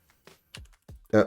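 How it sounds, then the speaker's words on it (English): Soft clicks of typing on a computer keyboard, a handful of separate keystrokes with a louder final tap, near and quiet, with no voices. "Type on the right keyboard, Martin."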